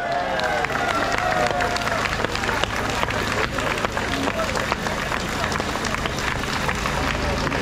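Loud, dense applause from a crowd at a protest rally in France against a euthanasia law, clapping continuously with background hubbub and a voice over the crowd early on.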